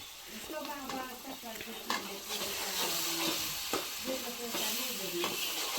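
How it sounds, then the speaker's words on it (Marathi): An onion-garlic masala paste frying in oil for a home-style fish curry, crackling and hissing close by with repeated stirring scrapes, and a voice talks faintly in the background. "त्याला तेलामध्ये परतून घ्यायचा चांगला चांगला असा लाल पिवसळ होईल तोपर्यंत"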